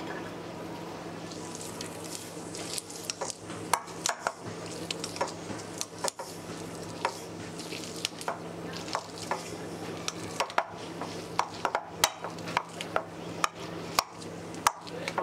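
Food being mashed in a bowl by hand, with a steady run of soft squishing presses and sharp utensil clicks against the bowl repeating throughout, close and fairly quiet.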